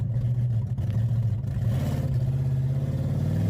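Supercharged engine on a classic car with side pipes running along the body, giving a close, loud, throaty rumble that rises into a rev partway through and holds a steady low drone.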